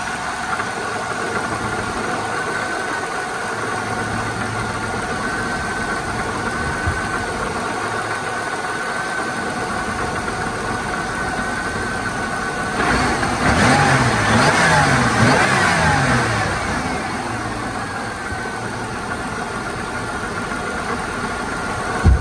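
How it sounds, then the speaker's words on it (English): Supercharged 3800 Series 2 V6 in a 1998 Buick Riviera idles with a steady mid-pitched hum, then is revved briefly and settles back to idle, heard up close. "Said you got the 3800 Series 2 Supercharged V6. There's your supercharger right there."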